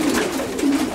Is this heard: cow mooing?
no